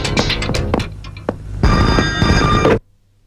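A telephone bell in a Hindi-dubbed action film rings loudly and continuously close by, its shrill tone pulsing, then cuts off abruptly into near silence.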